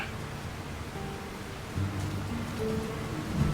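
Steady rain falling in a town in the video game The Lord of the Rings: War in the North, a soft even hiss throughout with faint sustained tones layered over it.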